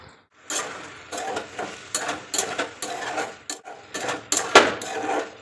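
Vegetables for sambar stirred and sautéed in a pan with turmeric, giving repeated bursts of scraping and sizzle in an uneven rhythm, close and moderately loud with no talk.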